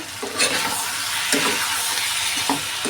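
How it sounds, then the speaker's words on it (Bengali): A prawn, potato and pointed gourd curry sizzles hard in a pan while a spatula stirs it, giving a loud, steady frying hiss broken by rhythmic scraping strokes. "এখন আমি খুব ভালো করে কষিয়ে নেব"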